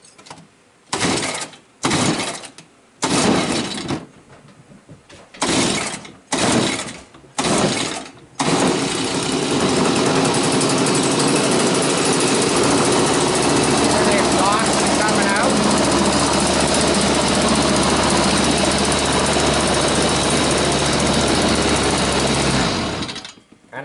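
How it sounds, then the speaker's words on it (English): A jet boat engine fitted with a can muffler, run in a garage, cranks in several short bursts before catching, then holds a steady, loud buzzing idle close by for about fifteen seconds. "I'm gonna just quickly fire this up with the can muffler so you can kind of hear what it sounds like with the can on it."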